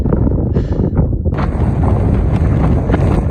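Strong wind rushes over a high sand dune ridge at Great Sand Dunes National Park, a loud, steady buffeting roar with gusts battering the microphone and faint hissing of blown sand.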